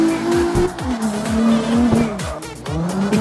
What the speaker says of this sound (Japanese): とりあえずドリフトで抜きますよ